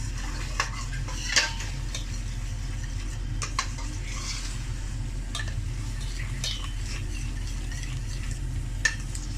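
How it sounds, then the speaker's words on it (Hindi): Chopped garlic frying in oil for a Lahori-style mutton karahi, a steady low sizzle running throughout with occasional light clinks of a spoon against the pan. "थोड़ा सा जो गार्लिक है वो ज़रा इसको फ्राई कर लें।"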